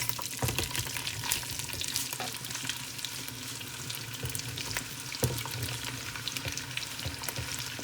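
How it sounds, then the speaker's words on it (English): Onions fry and caramelise in a pan with a dense, continuous sizzle and crackle, with occasional scraping stirs and small spattering pops close by. "the onions are now going in"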